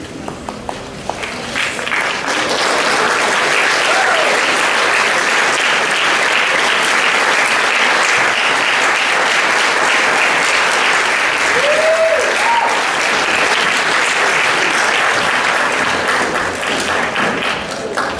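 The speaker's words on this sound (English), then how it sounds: "Let's give them one last round of applause." Sustained, loud applause from a banquet audience honoring a girls soccer team at a high school athletic awards night, dense clapping that swells and holds steadily for many seconds with a few whoops.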